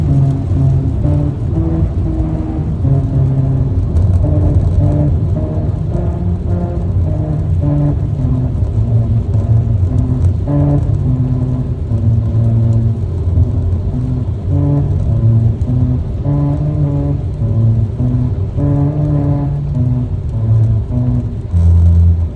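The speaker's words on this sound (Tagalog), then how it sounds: "Nadaanan namin ang musical road sa Fujairah." A car drives over the musical road in Fujairah, with tires drumming on the grooves and a loud, steady road rumble that rises and falls into a repeating pitched pattern.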